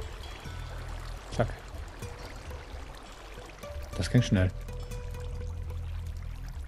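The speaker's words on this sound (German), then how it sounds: "Rennt hier überall Wasser." Flowing water in a German Minecraft session, a soft running trickle under a steady hum, broken by a few sharper splashing bursts, while someone talks over it.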